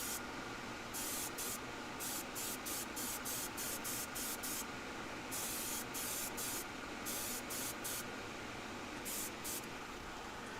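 An airbrush lays down a light coat of Vallejo paint, the fine airy hiss of spraying broken into a string of short bursts with brief pauses between them, close and steady.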